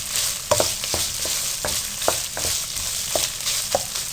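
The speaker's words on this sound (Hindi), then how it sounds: "अब आपने 2 मिनट के लिए इसको अच्छी तरह से फ्राई कर लेना" Chicken frying in a pan, with a steady background sizzle broken by repeated scraping and stirring knocks at an irregular pace.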